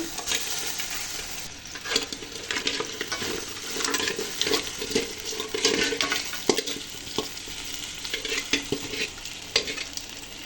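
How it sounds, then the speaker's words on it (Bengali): Boiled goat trotters for nehari are tipped into well-fried spices in a pot and stirred, giving a continuous sizzle with repeated scraping and sloshing stirs, close and fairly loud, with no talk. "এখন এই যে আমি যে জাল করে রেখেছিলাম সেই নেহারিগুলা তুলে দিচ্ছি"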